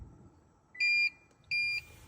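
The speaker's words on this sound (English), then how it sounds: "You should hear a beep." Two short, clear electronic beeps from a 2006-2008 Lexus during key programming sound in quiet surroundings, evenly spaced about half a second apart.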